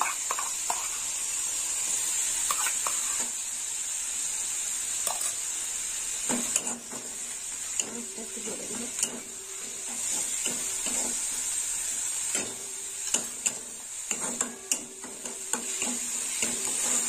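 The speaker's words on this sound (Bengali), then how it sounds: "পেঁয়াজ বাটাটা একটু ভাজা হবে লাল লাল।" Onion paste fries in oil with a steady, hissing sizzle while a spatula stirs and scrapes the pan in intermittent strokes, close by, with no voices.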